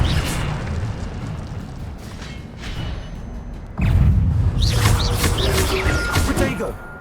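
A fire spell goes off in the Hogwarts Legacy video game, a sudden bursting whoosh that jumps in loudness midway and carries into a crackling, roaring blaze amid busy game sounds.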